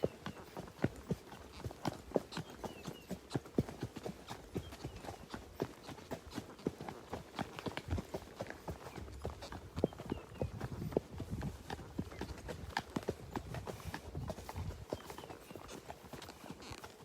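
Horses walking on a trail, hooves clip-clopping in an irregular, overlapping rhythm, moderately close and fairly quiet, with light rustling between steps and no talking.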